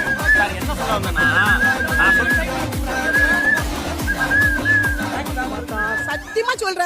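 Someone whistles a tune in repeated bright phrases over loud, rhythmic music with a thumping beat. The whistled notes are close and prominent and continue throughout.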